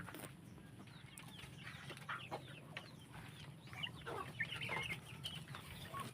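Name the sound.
native chickens clucking on a farm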